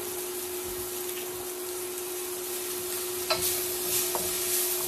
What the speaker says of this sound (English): So I'm scraping the pan out.